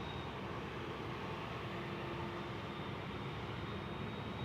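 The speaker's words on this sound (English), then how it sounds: "Is this a little Cessna landing?" A Cessna 172 light aircraft landing at Kansas City International Airport, heard as a steady, distant engine drone with a faint whine, continuous and fairly quiet with no talking.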